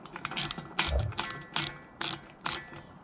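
Ratchet wrench snugging bolts on a pop-up camper roof rack, with six short clicking bursts in an even rhythm, close and clear, over a steady high whine.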